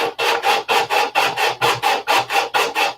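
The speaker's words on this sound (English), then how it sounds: "You could put sandpaper on your back plate and spin it round and round" Sandpaper on a spinning back plate sanding the nose of a piece, a loud steady rhythmic rasping with about a dozen even strokes, each swelling and fading in quick succession.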